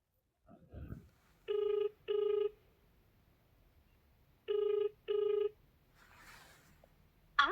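A phone call rings out unanswered in a household: two pairs of double ring tones separated by a pause, clear and fairly loud against a quiet room, with faint rustling and a brief voice at the end.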